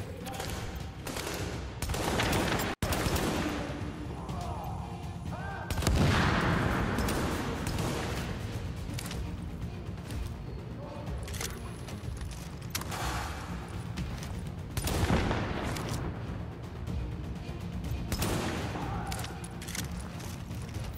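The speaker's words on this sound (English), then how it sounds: "they're shooting all the civilians" Bursts of gunfire from the video game Tom Clancy's The Division, sustained volleys and single shots filling the scene at a steady loud level, with a heavy boom near the start.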